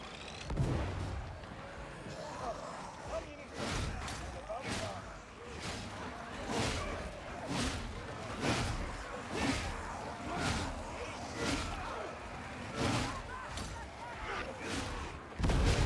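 A grenade bursts amid heavy infantry lasgun fire in Warhammer 40,000: Darktide. A steady series of loud, booming cracks repeats throughout, with game voices calling out between the blasts.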